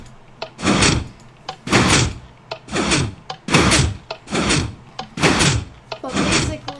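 Minecraft piston doors snapping open and shut in rapid succession, about eight loud mechanical bursts spaced roughly a second apart, each a sharp whooshing clack.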